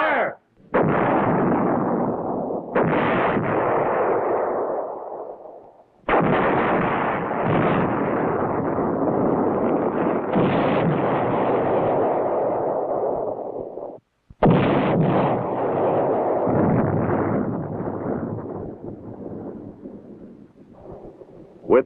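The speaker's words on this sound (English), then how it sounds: "pre-planned fire at position Alpha Charlie on my mark." Pre-planned artillery fire from a 1969 Defense Department battlefield film. Four heavy blasts each roll into a long, loud rumbling decay, with the booms following one another in quick succession.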